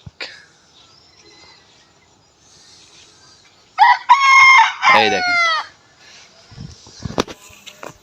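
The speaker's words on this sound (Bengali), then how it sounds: "দেখছেন মোরগ ডাকলো" A rooster crows loudly and close by in a rural Bangladeshi village at morning, one long stretched call with a brief cluck before it, while someone says a few words just ahead of the crow.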